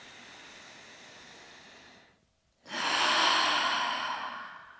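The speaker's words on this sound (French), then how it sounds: "Profondément par le nez, on expire par la bouche." Deep breathing during a full-body flow yoga stretch: a long breathy inhale, a brief pause, then a louder, fuller exhale through the mouth, close and alone.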